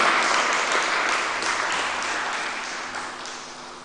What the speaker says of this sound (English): Please clap, audience.